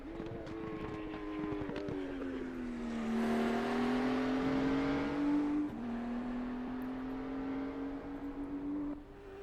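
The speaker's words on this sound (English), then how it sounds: "He's drifting it." A car drifts in a racing video game, its engine holding a sustained droning whine that dips and climbs in pitch with revs, loud and continuous without talk.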